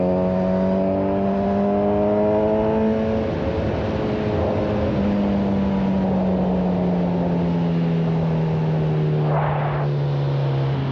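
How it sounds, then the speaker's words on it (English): A loud motorcycle exhaust drones steadily while riding, heard from under an HJC V60 helmet, the engine tone sliding in pitch as it revs and settles, with a brief whoosh of wind midway. "You're gonna be deaf when you get old, especially with this exhaust."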